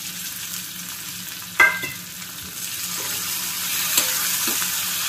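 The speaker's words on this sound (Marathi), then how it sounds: "टोमॅटो पण थोडेसे फ्राय व्हायला हवे" Tomatoes frying with softened potatoes in a pan for kande pohe, with a steady sizzle under a few stirring clacks and scrapes and no speech.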